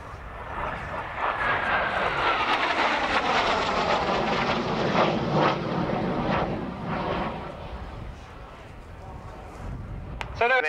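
A Hawker Hunter T7A jet makes a high-speed pass from the left at the Yeovilton Air Day, its roar sweeping loudly across and then fading, with a commentator's voice over the public address.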